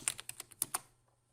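A computer keyboard clicks in a quick run of about six or seven close keystrokes, fairly faint and isolated, then falls quiet.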